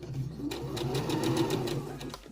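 A sewing machine stitches a zipper into fabric, a close, rapid mechanical whir with steady needle clatter lasting a couple of seconds.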